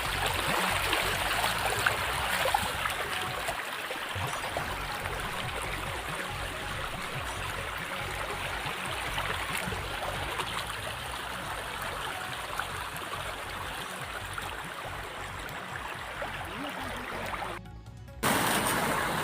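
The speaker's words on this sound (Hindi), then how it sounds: "ये नहर फूटने के कारण पूरा पानी भरा हुआ है, ये बह रहा है" A constant rushing of water flowing from a burst irrigation canal into fields runs throughout, broad and steady, with a brief dropout near the end.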